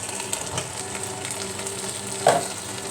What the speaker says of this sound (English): I'm gonna just stir it in, be careful not to break the noodles